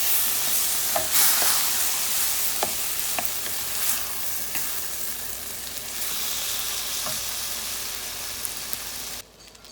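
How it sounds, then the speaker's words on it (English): Shrimp risotto sizzling in a pan while being stirred, a steady close frying crackle broken by scattered clicks of the spoon against the pan, cutting off abruptly at the end, with no talking. "And I'm going to stir it."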